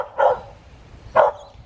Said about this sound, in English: Dog wants me to throw the ball for him.